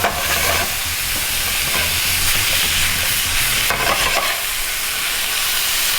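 Beef stir fry with chili and cilantro sizzles loudly and steadily in a hot pan, with constant frying hiss and occasional stirring scrapes close by.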